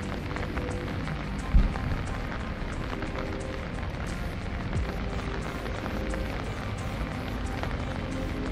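Heavy rain pours down in Dubai as a dense, steady hiss of drops hitting surfaces, continuous and close throughout, with one brief thump early on.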